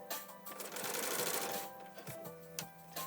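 A sewing machine stitches a shoulder seam on a garment at 5/8-inch seam allowance, giving a close, fast, even whirring run that stops briefly near the end.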